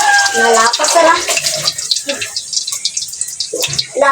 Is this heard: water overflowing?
yes